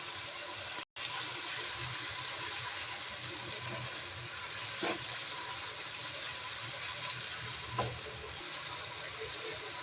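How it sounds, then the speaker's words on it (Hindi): Water splashed into masala frying in a pan for a Dhaba-style kaddu chana dal, giving a steady broadband sizzle and hiss that holds through the stretch with one brief break near the start. "हल्का सा मैं इसके अंदर पानी का छट्टा लगा दूंगी ताकि जो मसाला है वो नीचे से लगे नहीं"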